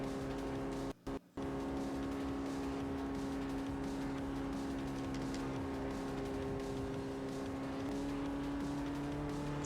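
A 2000 Nissan car engine in Forza Motorsport 4 drones steadily as it labours up a long hill, a sustained, even hum with a brief cut near the start.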